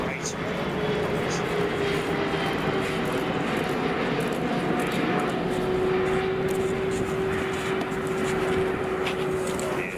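An Etihad triple-seven freighter in old livery taxiing or rolling at Frankfurt Airport, a steady loud engine roar with a sustained tonal whine running throughout, while people talk over it.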